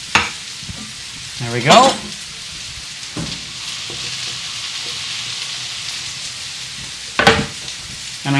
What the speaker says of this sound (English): I'm going to grab another spatula and just give this a little stir.